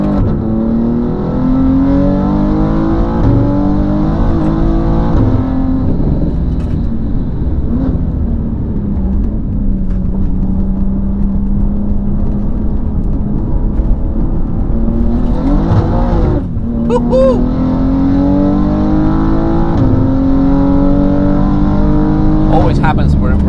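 A tuned 700 horsepower BMW M2 engine drones and revs while driving, pitch climbing and dropping through gear changes, loud from inside the car, with someone talking over it.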